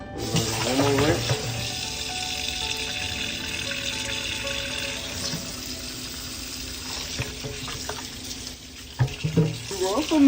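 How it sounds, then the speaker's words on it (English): Tap water running over raw oxtails in a kitchen sink for a final rinse, a steady rushing stream with light sloshing and clatter, growing busier near the end. "this is the last and final rinse, and I'm gonna kind of let this rinse overflow a little bit"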